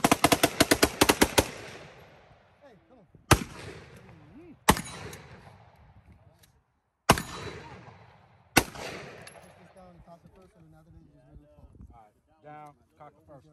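Guns fire at a shooting range on a range day: a rapid burst of sharp shots, then several loud single reports spaced seconds apart, each ringing out and decaying, with people talking between them.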